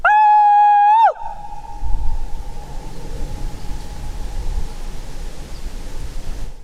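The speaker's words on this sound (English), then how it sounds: "Listen to this echo." Outdoors on the south coast of NSW, a loud, sustained tonal call lasts about a second and then lingers as a faint, fading echo over low outdoor rumble.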